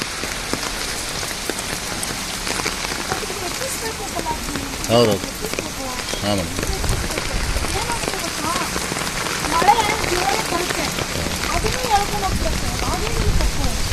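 Heavy rain pours down steadily in Belagavi city, a dense hiss of drops on surfaces that continues throughout, with faint voices underneath.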